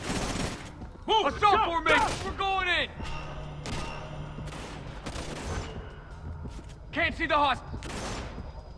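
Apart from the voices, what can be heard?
gunfire in video game Splinter Cell: Conviction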